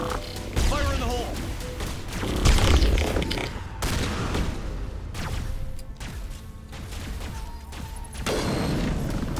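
A grenade detonates in Mass Effect with a deep, loud boom amid dense combat gunfire and crashes. Voices are heard over the din of the firefight.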